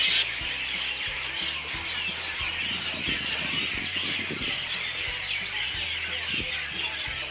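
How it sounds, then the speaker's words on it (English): Loud, dense birdsong fills the air continuously, many birds chirping at once over a steady background hiss, with some fowl-like clucks mixed in. "I've never heard birds singing so loud."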